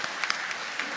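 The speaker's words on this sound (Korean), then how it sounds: "우리 한번 박수 쳐주십시다" A church congregation gives steady, dense applause for the Sunday worship music, loud and close throughout with no gaps.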